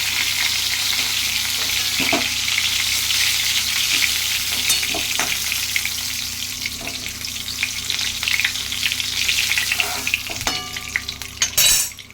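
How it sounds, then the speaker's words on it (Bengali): Nigella seeds tempering in hot oil left from frying cauliflower crackle over a continuous close sizzle, punctuated by scattered utensil taps and scrapes, with a louder clatter near the end; nobody speaks. "ওই তেলেই আমি কালো জিরে ফোড়ন দিচ্ছি।"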